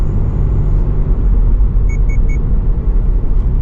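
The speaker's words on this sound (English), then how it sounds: "that's my lane keep assist" Lane keep assist warning in a 2024 Toyota GR86 Base with a 6-speed manual: three quick electronic chimes in a row, heard over the constant loud road rumble of the moving car.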